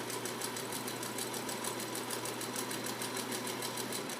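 Singer Featherweight sewing machine stitching silk at a stitch length of about 12, giving a fast, even mechanical whir with rapid regular ticking of the needle, steady and close, with no talk.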